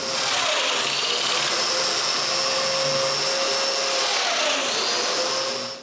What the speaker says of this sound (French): elle peut marquer les emplacements pour faire les trous dominos et les percer